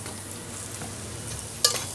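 Carrots and beans fry with golden-brown onions in a pan, a quiet steady sizzle with faint stirring and one brief sharp clink of a utensil near the end.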